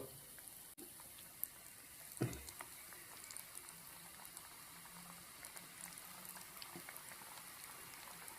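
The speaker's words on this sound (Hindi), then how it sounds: "इसको मैं फ्राई करूँगा" Zinger chicken fries in hot oil, a quiet, steady bubbling sizzle with soft crackles and a brief clunk as pieces are moved, heard alone without talking.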